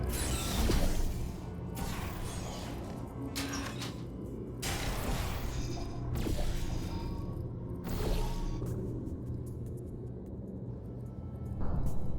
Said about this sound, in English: Activating trap elevator.